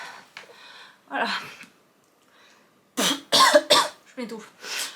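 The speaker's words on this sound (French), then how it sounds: "Je m'étouffe." A woman coughs and chokes, a few harsh bursts early on, then a cluster of loud, rapid coughs after a short quiet gap.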